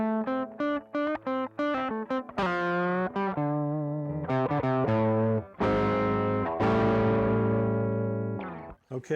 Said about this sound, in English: get a pretty good distorted sound